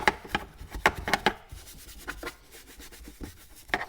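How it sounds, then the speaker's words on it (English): Stiff brush scrubbing a removed car seat from a Suzuki Wagon R+ during an interior deep clean, heard as a series of close, rough rubbing strokes in irregular bursts, with no talking. "give this a good scrub"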